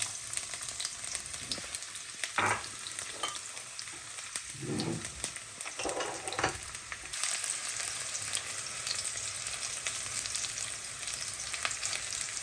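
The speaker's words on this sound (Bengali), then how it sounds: "একটু রসুনের তেল, ছোট করে কাটা রসুন," Chopped garlic sizzles steadily in garlic oil, a continuous close hiss with occasional louder pops and crackles, and no voices.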